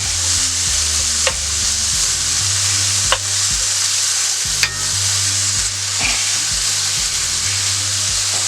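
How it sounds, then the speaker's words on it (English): Ham browns in a hot skillet for a country breakfast casserole, giving a steady, loud sizzle and frying crackle, with sharp clicks of a utensil scraping and stirring now and then. "The ham is cooking up here."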